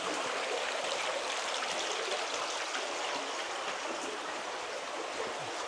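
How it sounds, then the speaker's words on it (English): A little mountain stream flows steadily through a cave, a continuous bright rush and trickle of cool water that stays even throughout, with no voices. "Little stream"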